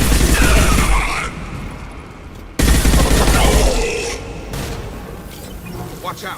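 Rapid gunfire bursts from a firefight in the video game Mass Effect 2, loud and dense, with a short break midway before the shooting resumes and fades into lighter scattered shots and noise.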